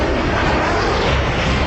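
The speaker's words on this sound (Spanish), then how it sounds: "Los 2 aviones tratan de conseguir altura." A MiG fighter jet climbs for altitude, its engines giving a loud, dense, continuous roar with no pauses or voices.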